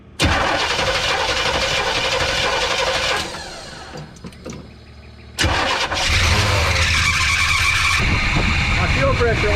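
A 1985 GMC C25 pickup's 454 engine, low compression and running on old stale gas, cranks over and fires, running loudly, dropping to a rough stumble, then catching again and revving steadily up close.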